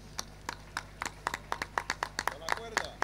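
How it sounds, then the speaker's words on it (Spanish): An audience claps for the Mejunje parranda group in Santa Lucía: sharp claps in a steady, quickening beat, fairly close, with a voice briefly heard near the end. "un fuerte aplauso para el Mejunje"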